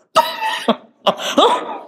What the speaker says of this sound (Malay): Buat-buat batuk.